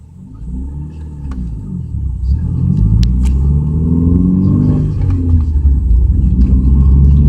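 2003 Subaru Legacy Outback AWD with a manual transmission pulls away and runs up through the gears. Engine revs climb and drop in smooth sweeps at each shift, building into a close, steady rumble.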